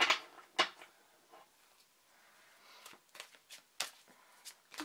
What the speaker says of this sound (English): So I have to shuffle it in a way that there is both upright and upside down cards.